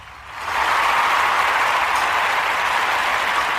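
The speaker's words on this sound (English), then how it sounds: "So we want to give all of y'all a round of applause." Audience applause swells in after a brief quiet moment and holds as dense, loud, steady clapping from a crowd.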